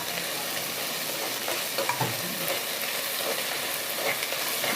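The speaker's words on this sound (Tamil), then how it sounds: "இந்த வெங்காயம் நல்லா வதங்கணும்." Onions sauté for a village-style layered biryani, giving off a steady, loud sizzle and hiss with occasional stirring scrapes in the pan.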